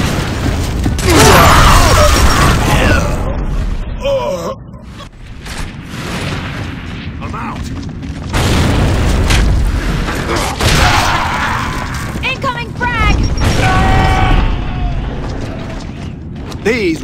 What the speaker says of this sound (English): Throwing frags!